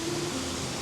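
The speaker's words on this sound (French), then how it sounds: "je découvre avec bonheur qu'il y a là une jolie cascade" A small artificial waterfall on a river among trees, heard as a steady broadband rush of falling water, even and unbroken, with no voices over it.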